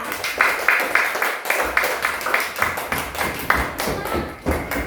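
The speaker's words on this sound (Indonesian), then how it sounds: "Beri tepuk tangan untuk kelompok 3." A classroom of students claps for group 3, uneven rhythmic hand claps and taps repeating close by for several seconds, with no one speaking over them.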